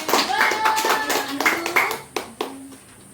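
Pupils in a classroom clap their hands together during a lesson, a short ragged round of clapping under children's voices, ending in a few separate claps.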